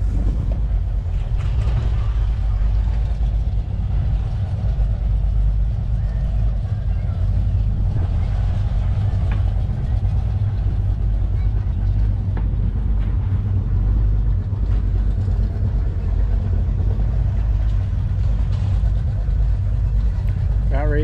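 A steady low engine drone with wind rush runs throughout, a small 175-horsepower motorboat cruising on Lake of the Ozarks, with faint talk underneath.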